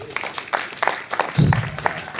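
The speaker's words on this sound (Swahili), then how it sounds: "Mkaribishe chama na makofi." Applause breaks out at a police-community forum in Komarock, Nairobi, welcoming the association chairman: scattered, uneven claps from a modest crowd, with a slightly heavier burst midway through.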